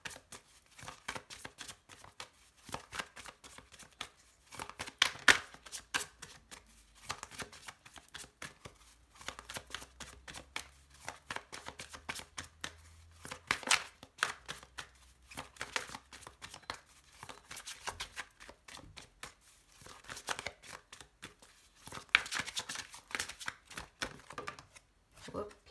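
Tarot cards shuffled and cut by hand in a long run of rapid papery flicks and riffles, close and fairly soft, with a person talking intermittently throughout.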